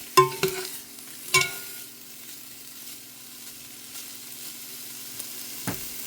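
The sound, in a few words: browning Italian meatballs sizzling in a pot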